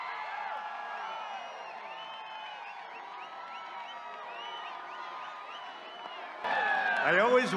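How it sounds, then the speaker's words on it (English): Crowd at an outdoor political rally, cheering and whooping as a dense, sustained roar with overlapping shouts, heard from a distance. It swells louder near the end. "You can hear how big these crowds are"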